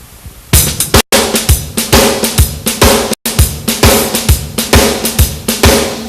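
Shuffle groove on a drum kit played with both hands, the left hand doubling the right in a triplet feel, with heavy bass drum thumps and steady snare and cymbal strokes, loud and close, with two brief dropouts.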